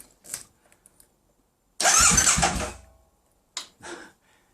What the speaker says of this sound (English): obviously the starter motor is turning over